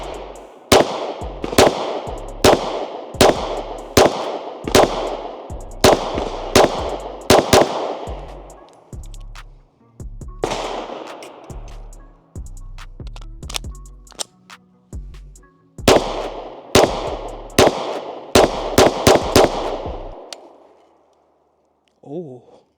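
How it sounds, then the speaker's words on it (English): Sharp gunshots from a PSA Dagger Micro pistol fed from OEM Glock magazines, fired close in quick strings of several rounds separated by short pauses, with one break suggesting a light primer strike. "So when shooting this firearm, I actually had 1 light primer strike with this firearm"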